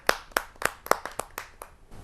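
About eight sharp, separate claps ring out in quick succession at a Hindi poetry gathering, a sparse, fairly close applause welcoming a poet onto the stage.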